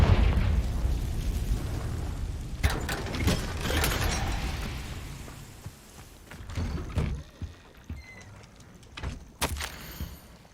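Confringo fire spell blasts in Hogwarts Legacy, several loud booming bursts with crackling debris and rumbling, followed by quieter scattered pops and clatter as things settle.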